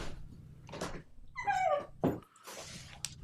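A dog gives a few short whimpers and yips, close and fairly loud, in broken bursts spread over a few seconds while people in a podcast setting react around it.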